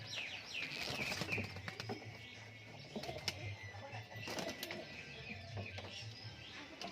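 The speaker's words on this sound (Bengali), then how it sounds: "পায়রা প্রচুর পায়রা রয়েছে" Many pigeons, including high-flyer breeds, are kept at a loft where birds are sold. They give faint, fairly distant calls, chirps and short bursts of wing flapping over a quiet background.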